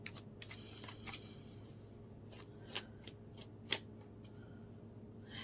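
Tarot-style reading cards being shuffled by hand in a quiet room over a steady low hum. Short riffling bursts and soft slaps come several times, the crispest ones falling in the back half.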